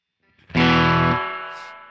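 An electric guitar played through a tc electronic Ampworx Combo Deluxe 65' preamp with reverb sounds a single loud strummed chord that rings out and slowly fades in a reverberant tail.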